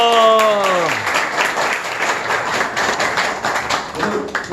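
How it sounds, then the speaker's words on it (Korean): A lecture audience at a political party talk gives a sustained round of applause with some cheering, beginning as the host's voice fades and continuing evenly for several seconds. "박수 한번 더 주십시오."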